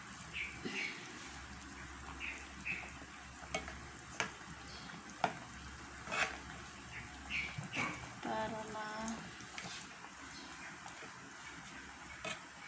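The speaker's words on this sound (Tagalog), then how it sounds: "pwede na natin itong i-prito ng konti" Soft sizzling of meat frying in a pan for adobo, with occasional stirring and scraping clinks and faint voices in the background.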